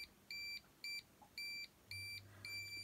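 A Parkside PSSFS 3 A1 non-contact voltage tester pen emits five quiet, high electronic beeps in a regular rhythm, each about a quarter-second long, over a low hum.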